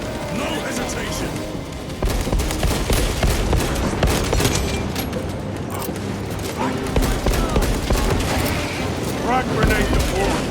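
Gunfire in the Space Marine 2 video game, dense continuous bursts and booms of battle at a breached wall, loud and steady throughout, mixed with shouted commands.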